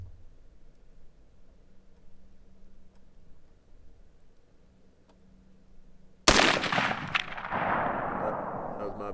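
A single loud shot from a Colt A2 Government Carbine 727 clone rifle cracks out after several seconds of quiet outdoor background hum, followed by a long fading echo rolling away across open ground.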